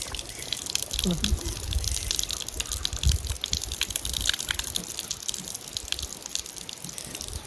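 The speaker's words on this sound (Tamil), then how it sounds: "ஏன் இந்த தண்ணி ஓடிக்கிட்டே இருக்குது இந்த பைப்பில்" Water runs continuously from an iron pipe beside Sembuwatta Lake, a steady splashing gush with dripping over outdoor noise, fairly close and constant throughout.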